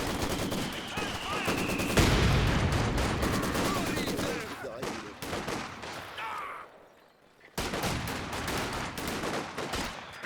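Company of Heroes 2 combat with sniper shots over dense gunfire: loud bursts of rapid shooting and sharp cracks, then a quieter lull and a brief near-silent gap before the firing resumes, with some game voice lines mixed in.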